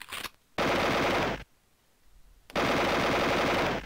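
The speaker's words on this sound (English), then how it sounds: "I can't see the enemies before they start firing at me." Enemy gunfire in the Duke Nukem 3D Platoon mod game bursts out in two loud sustained automatic volleys separated by a brief lull.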